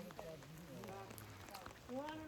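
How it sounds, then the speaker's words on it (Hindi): Rain falls steadily during a village temple procession for a mountain deity in Uttarakhand, a continuous wash of drops mixed with crowd voices and movement throughout. "और इस टाइम आप देख सकते हैं बारिश हो रही है"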